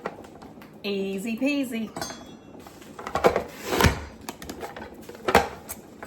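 An onion is pressed through a manual vegetable dicer, giving a few sharp plastic clacks and crunching thumps spread out over several seconds. A brief spoken remark comes before them.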